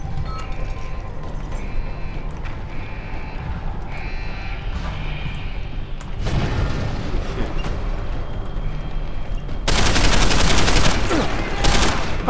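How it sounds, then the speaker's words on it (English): Gunfire from the video game Deus Ex: Human Revolution: continuous rattling bursts of shots that grow denser and louder toward the end. "Fucking weird firing."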